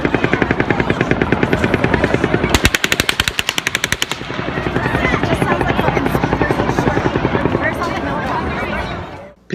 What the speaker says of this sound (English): records audio gunfire, some distant, some present